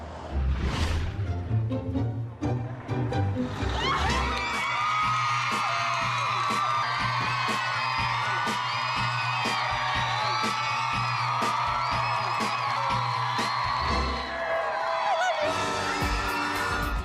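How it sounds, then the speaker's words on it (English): A big crowd outside a family's newly built house cheers and whoops in welcome, a loud, sustained roar of shouts and yells that swells after a brief pause and carries on throughout. "a nice big crowd gave me a nice welcome"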